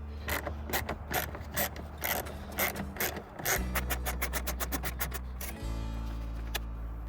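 A ratchet clicks in quick sharp bursts while removing 8mm hex bolts from the rear bumper of a BMW F10 520d, the metallic pawl ticking close and clear over a low engine-like hum.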